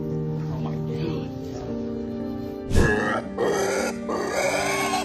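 A rescued pig grunting and snorting up close after Hurricane Ian, a sharp squeal-like burst midway, over continuous background noise and some voices.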